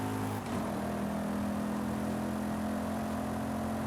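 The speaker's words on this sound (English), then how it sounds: "And I have the upgraded exhaust on this, which makes it sound even better." A car engine in Forza Horizon 5 drones steadily at a constant pitch, a low continuous hum with a smooth exhaust rumble from an upgraded exhaust, and no voices.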